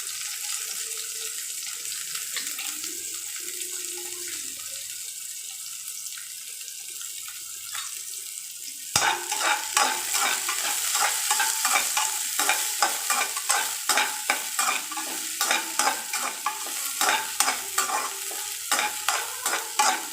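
Curry leaves, green chilies and onion frying in oil for rasam, a quiet start giving way to loud sizzling with repeated stirring scrapes in a steady rhythm, close to the pan.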